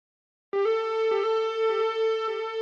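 Little lead note accenting a sample, a clean sustained tone entering after a short silence, holding one pitch with soft repeated plucked re-attacks, fairly quiet and alone.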